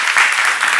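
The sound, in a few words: congregation clapping applause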